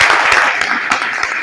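Audience clapping at an Ayurvedic seminar, a short burst of dense, even applause from a crowd, close and fairly loud, lasting about a second and a half with no talking.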